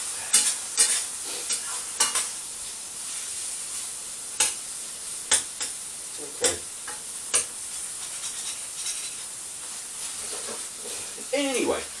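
Chicken and bacon brown in a frying pan with a steady close sizzle, broken by scattered clicks and scrapes of stirring.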